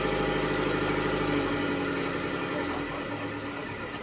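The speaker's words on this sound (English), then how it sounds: "The engine's running" A car engine idles close by with a steady low, pulsing hum and mechanical rattle, then the low rumble eases a little partway through, with no talk over it.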